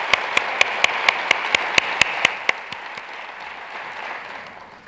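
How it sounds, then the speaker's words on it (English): Conference audience applauding award recipients at a cystic fibrosis care plenary session, a broad hall of clapping and a few sharp, evenly spaced claps that fade into a softer, dwindling patter. "Let's give them a round of applause."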